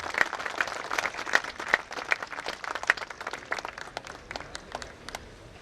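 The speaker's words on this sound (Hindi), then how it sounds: "एसोसिएशन के लिए ताली" At a Hindi-language event, a crowd claps for the director and the association, a lively burst of many hands with sharp individual claps on top, strongest at the start and gradually thinning out.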